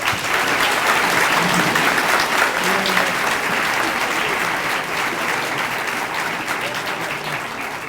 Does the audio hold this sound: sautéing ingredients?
no